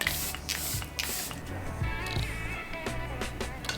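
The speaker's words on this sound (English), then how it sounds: "spray the skin" Several short hissing bursts from a close spray bottle misting the skin over makeup, in quick puffs with quiet handling noises between them.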